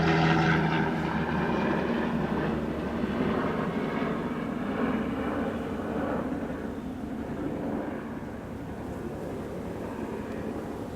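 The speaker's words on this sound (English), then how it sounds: "And that's a helicopter." A helicopter's engine and rotor drone overhead beside a beehive, loud at first and slowly fading as it moves away, a steady rumbling throb with no voices.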